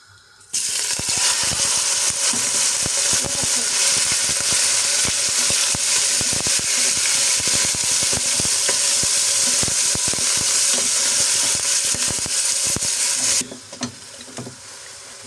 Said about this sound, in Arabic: هون بطنجرة على الغاز حطينا شوية زيت، وراح نضيف الدجاج